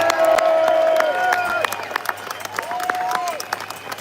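Crowd applause and cheering at an outdoor street protest against grooming gangs, a broad steady roar of clapping and voices that fades slightly midway, with shouts and talk rising over it.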